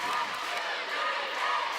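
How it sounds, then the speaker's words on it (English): A roller derby audience at a 2017 bronze-medal match cheers as a steady, fairly close wall of crowd noise, with voices whooping and shouting together throughout. "We have the entire audience cheering."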